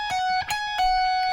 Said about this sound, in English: what I was doing there was a bend on 17 of the first string, and then 2 pull-offs from 17 to 15